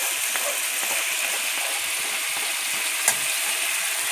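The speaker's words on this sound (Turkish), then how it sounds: "kavrulan soğanlarımızın içine ince kıydığımız sarımsaklarımızı ilave ediyoruz" Onions and finely chopped garlic fry in a pan with a steady, close, loud sizzle that runs unbroken throughout, with light scraping as they are stirred and one brief sharper tick near the end.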